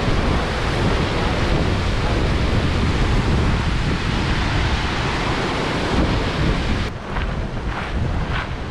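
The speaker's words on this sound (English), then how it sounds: "There's a little waterfall there." A small waterfall in Iceland's Golden Circle roars steadily in a dense, close wash of noise, a little softer near the end with faint wind buffeting.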